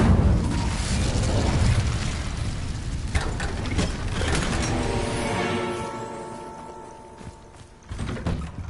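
An Incendio fire spell cast in Hogwarts Legacy, sounding as a loud, sustained roaring blast of fire and crackling bursts that rumbles on for several seconds, then fades, with a brief flare near the end.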